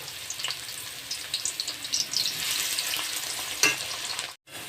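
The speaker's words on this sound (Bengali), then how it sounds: "ওই তেলেই আমি দিয়ে দেবো এই কুচি করে রাখা পেঁয়াজ।" Chopped onion frying in hot oil left over from making birista for biryani, a steady close sizzle with scattered pops and crackles, briefly cut off near the end.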